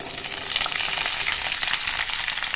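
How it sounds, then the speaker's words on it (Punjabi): Boiled amla gooseberries fry in hot oil for pickle, giving a dense, continuous crackling sizzle that stays even and close throughout, with no talking. "ਤੇਲ ਵੀ ਹੋ ਗਿਆ ਆਪਣਾ ਗਰਮ, ਹੁਣ ਵੀ ਇਹਦੇ ਵਿੱਚ ਪਾ ਦਿੰਦੇ ਆਪਾਂ ਇਹ ਉਬਲੇ ਹੋਏ ਔਲੇ"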